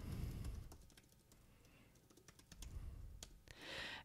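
Quiet clicking of keys on a computer keyboard, a run of irregular taps, ending with a soft breathy rush of noise.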